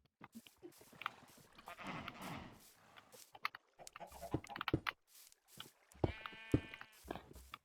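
Sheep bleat repeatedly in short, close calls in Minecraft, scattered irregularly with brief pauses between them.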